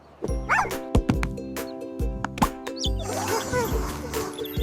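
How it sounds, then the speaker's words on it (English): A cartoon dog barks in short yips and woofs over a bright children's alphabet song, several loud barks in an uneven rhythm set against steady music. "D is for dog."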